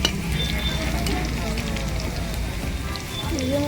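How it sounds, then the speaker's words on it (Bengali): Onion fries in a pan while cooking a mixed vegetable dish, a steady close hiss and crackle of sizzling oil running throughout, with a voice speaking over it. "পেঁয়াজটা একটু ভাজা হয়ে গেছে"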